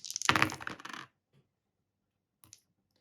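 Dice rolling onto a table during a Dungeon Saga board game, a quick close clatter of plastic on a hard surface that stops within about a second, followed by silence and a couple of faint light clicks.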